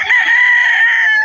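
A Boston roundhead gamefowl rooster at a pet market gives one loud, close, sustained crow with no voices over it.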